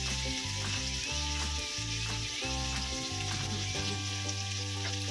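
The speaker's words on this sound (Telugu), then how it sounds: "ముందుగా కట్ చేసి పెట్టుకున్న టమోటాకాయని వేసుకొని దోరగా వేయించుకున్నాం." Chopped tomatoes frying in oil in a kadai for a Telugu ivy gourd and tomato chutney, giving a loud, continuous close sizzle with stirring throughout, while soft music plays underneath.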